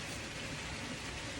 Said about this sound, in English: I had thought about doing it outside, but it's raining